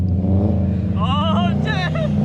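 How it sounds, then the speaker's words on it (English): A Subaru STI rolls in with a steady low engine drone close by, while excited voices talk over it. "we got the STI rolling in"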